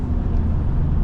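A 2022 Ram 1500 Sport GT truck engine gives a loud, steady, full-bodied rumble for about a second, heard close with the window down.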